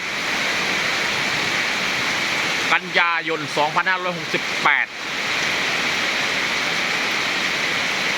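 A heavy rainstorm pours down steadily and loudly in the early morning, a dense unbroken hiss that fills the whole stretch, with someone talking briefly in the middle.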